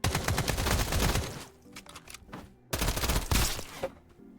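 Rapid bursts of SMG fire in the video game Escape From Duckov, loud and close, two dense volleys separated by a short gap with scattered single shots between them.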